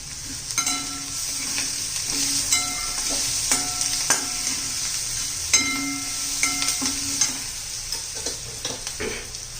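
Onion frying in a pan with turmeric, cumin and mustard seeds for a pea and potato curry, giving a steady sizzle under repeated scraping stirs and clinks of a spoon, with no talk.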